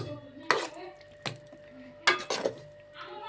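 A cooked curry pot is lifted off the stove with a few sharp metallic clanks and scrapes, spaced irregularly against a quiet background.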